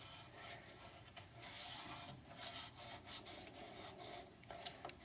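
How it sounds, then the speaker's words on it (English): A steady rasping scrape of a lathe tool working into spinning cherry wood, continuous and close, with slight surges in intensity. "This piece of cherry cuts so nice."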